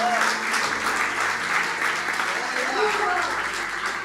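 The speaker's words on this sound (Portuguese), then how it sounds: "Aplaude ao Senhor mesmo." A church congregation at IBR Lisboa applauds in praise during a worship service, with continuous clapping throughout and faint voices and tones mixed beneath it.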